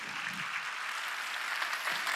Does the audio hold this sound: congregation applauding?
yes